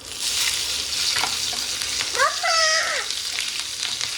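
Green chillies go into a hot frying pan for a Goan-style clam dish, setting off a loud, continuous sizzle, with a brief high, wavering whine rising over it midway.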